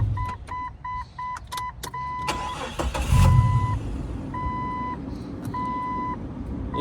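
An aftermarket alarm on a four-door Jeep Cherokee XJ beeps in repeated short tone bursts, some quick and some held longer. The engine cranks and runs loudly underneath, with no talking.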